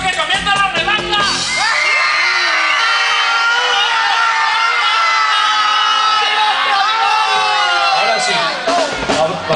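A crowd at an orchestra's live stage show lets out a long, loud collective shout and yell that swells and holds for several seconds before fading.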